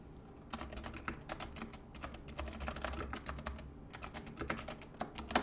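Rapid, irregular bursts of keystrokes on a computer keyboard while text is typed into a document, clicking steadily over a low hum with brief pauses between runs.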